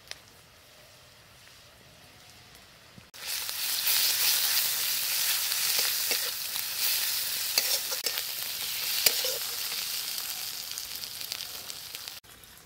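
Garlic and onion start frying in a pan with spices and break into a loud, steady sizzle after a quiet opening. Stirring scrapes and small pops break through the hiss before it cuts off near the end.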